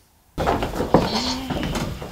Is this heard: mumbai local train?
no